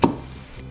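A kitchen knife cuts into a huge 80 cm, 6 kg flounder being filleted, with one sharp initial contact followed by a soft, drawn-out slicing scrape.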